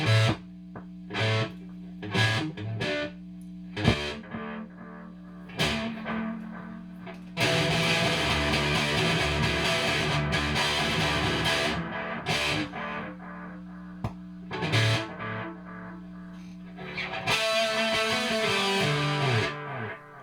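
An electric guitar plays through a homemade delay pedal set to a space-echo style, with distorted chords and repeating echo tails ringing out loud and close.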